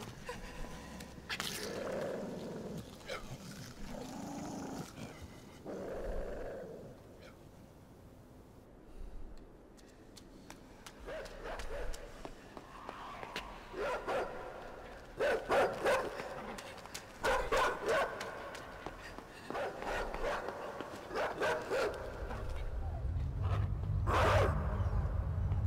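Dogs in the game INSIDE bark and growl in repeated bursts, loud and close, with scuffling game sounds between them and a rumbling low noise building toward the end.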